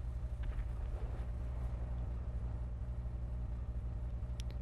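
A Grotti Turismo Classic in GTA V idles with a steady low rumble throughout, fairly quiet and even, with a couple of faint higher ticks near the end.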